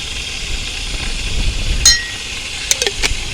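A kettle boils on a camping stove at a car campsite in Lowestoft: a steady airy hiss, with a few sharp glassy clinks of a cup close by.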